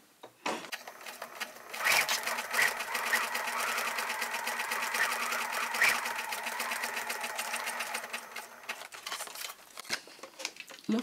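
A sewing machine zigzag-stitches down a paper collage in a nature journal, a fast, even, close chatter that runs for about ten seconds with a faint start and stop at each end.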